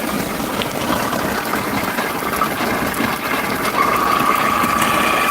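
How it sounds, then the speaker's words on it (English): An InSinkErator Evolution XL food waste grinder runs in a wash tub with a steady, close mechanical whir and watery churning, holding an even level throughout, with a faint high tone joining near the end. "Let me unplug this grinder."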